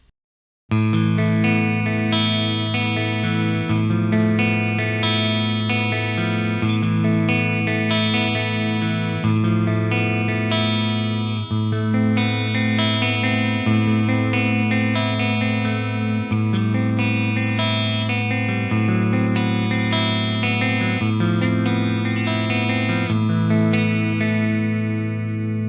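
Clean electric guitar played through a SonicTone Loyalist Mark I three-channel high-gain tube amp with the bright switch engaged, shimmering, chorused chords and single notes ringing loud and continuous, close and unaccompanied by talk.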